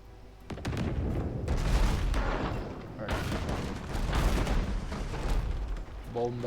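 Deep booming cannon volleys pounding an enemy ship in the game Abandon Ship, heavy rumbling blasts rolling on and off over several seconds.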